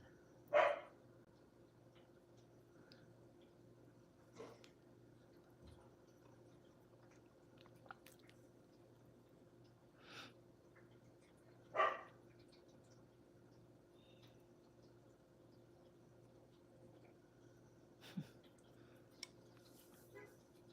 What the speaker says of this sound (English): Apparently he's barking.